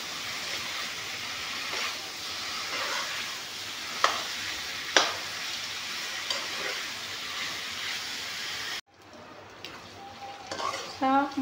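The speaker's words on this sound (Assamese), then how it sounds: "এতিয়া মাংসখিনি অলপমান ভাজি ল'ম।" Meat frying in a pan for a home-cooked curry with potatoes and gourd, a steady close sizzle with occasional scrape and clink of a stirring utensil, then quieter pan sounds near the end.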